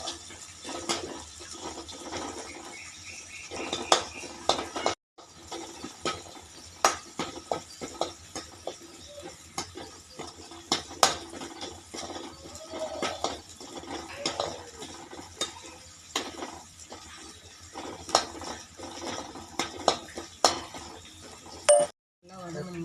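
Turkey berries, tomato and onion sautéing in a pan, with frequent clinks and scrapes of a metal spoon against the pan over a faint background sizzle, close by, while a voice talks intermittently.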